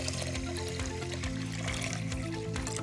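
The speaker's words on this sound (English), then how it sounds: "We're going to pour in some warm water." Warm water is poured over washed Kerala Matta rice in a pot, a steady close splashing and trickling stream that runs unbroken with no talk.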